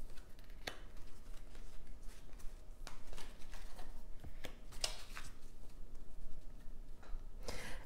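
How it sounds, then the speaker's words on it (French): Oracle cards shuffled by hand for a tarot reading, quiet papery riffles and soft irregular taps and slaps spread over several seconds, faint and close. "je vais faire un tirage à 6 cartes avec un oracle"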